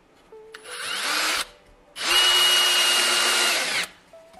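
A power screwdriver drives a notched self-tapping screw into wood, whining in two bursts: a short first run, a brief pause, then a longer, louder spin that cuts off sharply.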